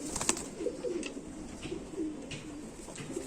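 An Indian Rampuri pigeon coos softly close by, several low, rolling coos in a loose rhythm over a quiet background.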